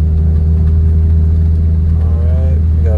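A 2006-2015 Mazda Miata MX5 engine drones loud and steady as the car drives off, its even mid-pitched hum rising slightly toward the end.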